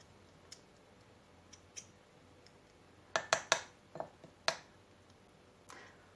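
A teaspoon stirs a cinnamon and potato mixture in a glass, making sharp metallic clinks: a few scattered taps, then a quick cluster of ringing strikes, fairly close and quiet, with no talking.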